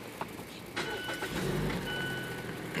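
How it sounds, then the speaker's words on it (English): A 2016 Mazda CX-5 with a 2.5-liter SKYACTIV-G engine starts by push button: a few clicks, then a brief starter whir and the engine catching into a quiet steady idle, heard close up. "It turns the car right on."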